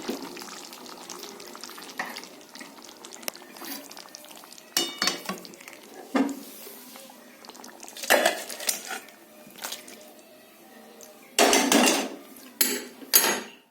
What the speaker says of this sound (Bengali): এবারে মাছের ঝোলটা ঢেলে নেব।